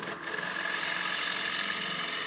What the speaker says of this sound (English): So turn your lathe on and bring your turning speed back up.